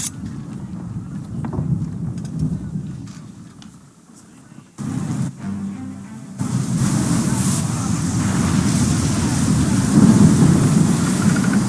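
A sea storm in the video game Assassin's Creed 3, with loud, continuous roaring wind and rain, deep rumbling that swells and fades, a brief lull, then a heavier wash of storm noise, with voices faintly mixed in.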